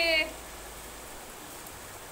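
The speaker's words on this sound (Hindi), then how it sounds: "खूब भर भर के बारिश आ रही है।" Heavy rain pours down steadily in windy weather, a continuous even hiss that runs the whole time after a brief louder burst at the start.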